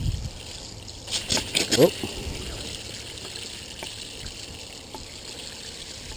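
Water rinses the scales off freshly scaled black crappie, with a brief burst of splashing and pouring followed by a soft, steady trickle, and a voice briefly exclaims.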